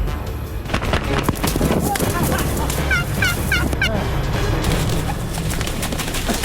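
Wild turkey gobbler calling in a rapid rattling gobble burst, close and loud amid rustling and scuffling noise, with a second gobble following shortly after.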